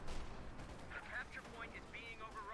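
Machine gun fire in the World War II strategy game Company of Heroes 2 sounds in a brief, faint burst of rapid shots beneath other battle noise, with a voice partly overlapping.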